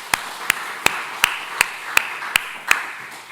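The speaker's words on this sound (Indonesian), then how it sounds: "Kita beri tepuk tangan sekali lagi." A church congregation claps for the choir in unison, eight sharp, evenly spaced claps in a steady beat, close and fairly loud, ending in a brief fading tail.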